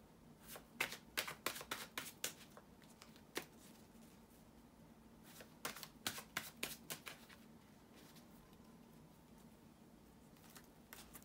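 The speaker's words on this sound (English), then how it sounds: "bear with me a second, guys, to shuffle the tarot cards" Tarot cards being shuffled by hand in bursts of quick riffling slaps, several clustered rounds separated by brief pauses, close and fairly quiet with no speech over them.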